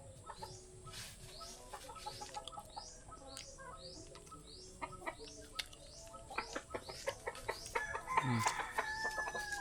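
Chickens being fed cluck and chatter close by, with a rooster crowing and small birds chirping, the fowl calls growing busier and louder toward the end.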